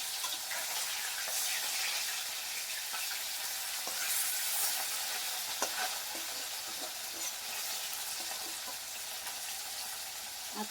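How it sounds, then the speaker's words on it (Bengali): Fish pieces lightly frying in a pan of oil for a Bengali fish curry, a steady broadband sizzle running throughout with scattered small pops and crackles, close and moderately loud, with no talking. "মাছগুলোকে আমি হালকা করে ভেজে নেবো"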